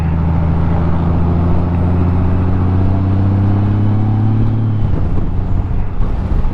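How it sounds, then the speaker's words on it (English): Strong wind roaring steadily past a moving 2024 Honda Gold Wing DCT motorcycle, a loud continuous rumble with the engine droning underneath. "But that wind is blowing strong, and this bike is just fighting through that wind"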